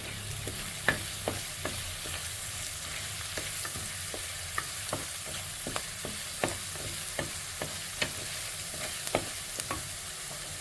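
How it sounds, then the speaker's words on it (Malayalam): Curry leaves, garlic and ginger frying in oil over a low flame for a Kerala fish curry, a steady close sizzle broken by frequent sharp clicks and scrapes of a spoon stirring the pan, with no talk. "ഫ്ലെയിം കുറച്ച് വെച്ചിട്ടാണ് നമ്മളിത് ഈ വെളുത്തുള്ളി ഇഞ്ചിയെല്ലാം മൂപ്പിക്കേണ്ടത്"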